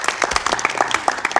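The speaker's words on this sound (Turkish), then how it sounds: "Oğluma buradan bir alkış." A short burst of audience clapping during a Turkish talk show, sharp distinct claps close by in a quick uneven rhythm, with a faint voice underneath.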